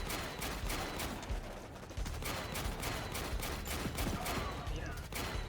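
Gunfire from units in the strategy video game Warpips, a dense, continuous fusillade of overlapping shots and bursts at steady volume throughout, with no talk.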